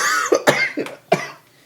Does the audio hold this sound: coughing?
yes